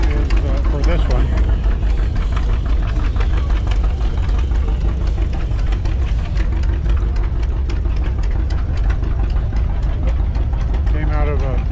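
An International W450 diesel tractor, fitted with a front forklift, idles steadily close by with a loud, rough, knocking low rumble, and someone talks over it.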